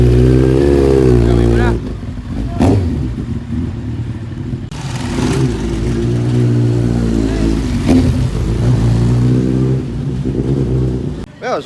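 A CX-9 motorcycle engine revs on a test ride, its pitch climbing and falling in repeated throttle bursts that stay loud and close throughout, with people talking intermittently over it.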